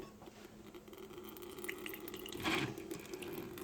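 Beet, carrot and ginger juice pouring through a strainer, a soft wet patter building to a louder splashing gush near the end, with no talking.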